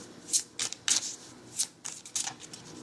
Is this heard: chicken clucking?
no